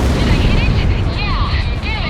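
Explosions tear apart the engines of an aerial battleship in the Ace Combat 6 video game, a loud, continuous roar of blasts and rumbling with whistling game effects, while a voice talks over it.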